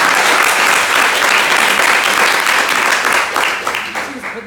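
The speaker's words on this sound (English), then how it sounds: "Can I please get a huge round of applause for that?" Loud audience applause at a young entrepreneurs' convention in a university hall in Durban, dense sustained clapping from a large crowd that gradually thins and fades toward the end.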